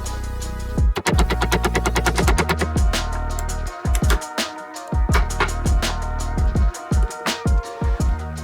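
A hammer drives a bearing into a part for a Mini Baja Bug engine rebuild, with rapid runs of sharp metallic strikes, loud and close, followed by slower, spaced blows.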